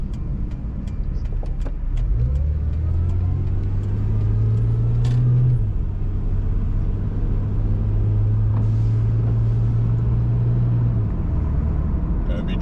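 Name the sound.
car driving on the road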